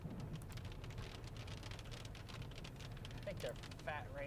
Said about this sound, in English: I think they're fat raindrops